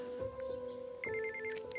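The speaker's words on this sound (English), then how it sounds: "Then my phone went off." A mobile phone's basic ringtone plays alone for a couple of seconds, a steady electronic tone that shifts in pitch and repeats in short rhythmic pulses.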